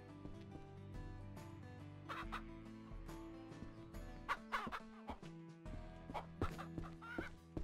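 Several hens clucking in a chicken coop in the Ranch Simulator video game, a busy run of clucks and squawks over a steady tonal background, moderately loud and close.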